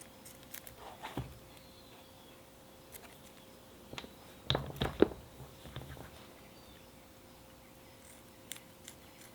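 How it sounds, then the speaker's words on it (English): Scissors snip through film on a motorcycle seat gel pad in a handful of short, close cuts clustered mid-way, with quiet handling noise between snips. "So let's just take our scissors,"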